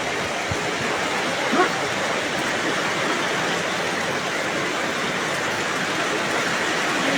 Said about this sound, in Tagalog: Grabe pa yung ulan, no?